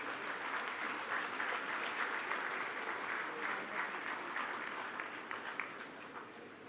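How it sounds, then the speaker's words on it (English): An audience applauds at the IIM Kozhikode convocation ceremony with steady, sustained clapping from a large crowd, even and somewhat distant, with no voice over it. "Can we have a round of applause, please?"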